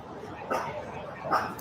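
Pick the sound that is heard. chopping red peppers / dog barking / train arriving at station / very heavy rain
dog barking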